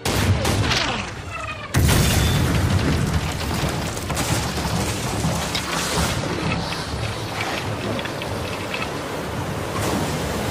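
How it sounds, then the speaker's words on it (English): A pirate ship's chase gun booms loudly over a constant wash of sea and ship noise, with one heavy blast near two seconds in and rumbling battle sound continuing for the rest of the stretch. "Fire the chase gun!"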